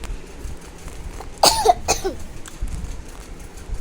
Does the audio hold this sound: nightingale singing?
no